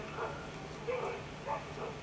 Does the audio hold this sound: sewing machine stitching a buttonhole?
no